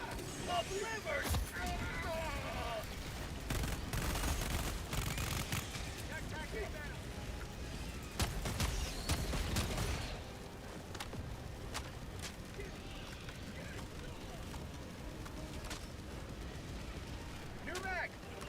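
Sentry gunfire and an orbital strike in the Helldivers video game: rapid crackling shots and heavy rumbling blasts over a dense battle din, with voices talking throughout.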